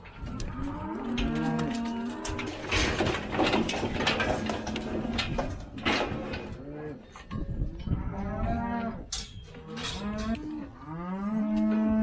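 Several cattle moo loudly and repeatedly in a handling setting, the calls overlapping close by, with occasional clanking of metal gates or equipment between them.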